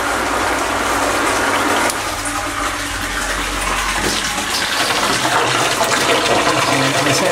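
Water gushes and splashes steadily as it floods a flood-and-drain grow bed fed by inch-thick pipe, a loud continuous rushing close by with no talk.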